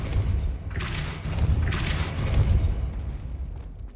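The Depulso force-push spell in Hogwarts Legacy lets out two heavy whooshing blasts with deep rumbling thuds, each swelling and fading over a steady low game-ambience bed.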